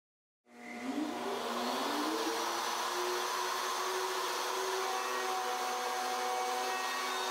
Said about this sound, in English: Next, reposition the template and continue routing.